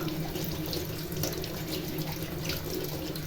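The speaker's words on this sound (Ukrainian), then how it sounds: "Далі горіхи промиваємо під проточною водою." Steady running tap water splashing into a sink as green walnuts are rinsed under the stream, continuous and close, with no talking.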